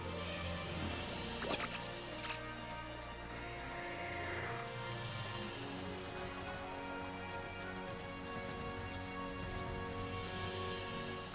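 Steady rainfall from the Pokemon Shield video game, a continuous patter of drops hissing evenly and fairly loud throughout, with a faint background tone underneath.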